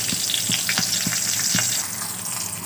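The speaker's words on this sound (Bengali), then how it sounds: "আমারটা এখন ভাজা হচ্ছে" Eggplant slices frying in hot oil in a wok, a steady close sizzle with periodic louder crackling bursts and spatters throughout, no voices.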